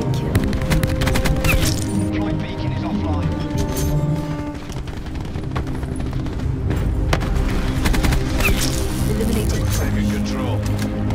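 The Peacekeeper gun fires in Black Ops 4, with rapid bursts of automatic gunfire running continuously through a busy mix of game sound and music while someone talks over it.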